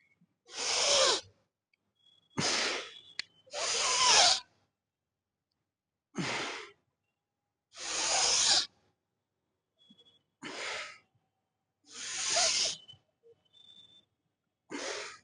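Sharp, forceful breaths blown out in a steady workout rhythm during barbell overhead presses, about eight loud bursts close to the mic separated by short silences, with no talking.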